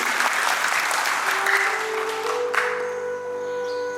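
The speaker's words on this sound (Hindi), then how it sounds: "एक बार जोरदार तालियां बजाइए जी" Enthusiastic applause from the crowd at an International Yoga Day 2025 gathering at a Bharat Mata meditation and yoga centre, loud for about two seconds before giving way to a sustained tonal hum.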